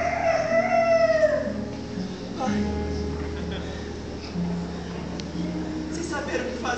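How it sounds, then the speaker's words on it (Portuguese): A rooster crow rings out during a church theatre play about Simon Peter. The drawn-out call is followed by a low, sustained background that continues under the scene. "Em seguida o galo cantou."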